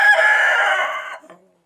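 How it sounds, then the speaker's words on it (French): A rooster crows once, loud and close, a single sustained strained call that tails off into a short gurgle and then silence. "Vous voyez comment il chante, mon coq"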